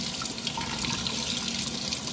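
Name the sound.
tap water rinsing blackberries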